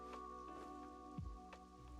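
Rain falls in a game-like setting as a soft, faint continuous patter with a few scattered drops, alongside a steady low tonal hum and one brief downward sweep.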